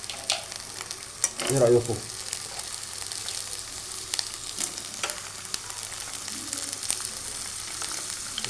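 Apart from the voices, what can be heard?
soaked dried beans sautéing in hot oil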